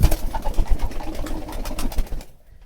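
Pigeons coo in low repeated throaty notes while being fed, close by and overlapping, with light shuffling and a wing flutter before the sound drops away at the end.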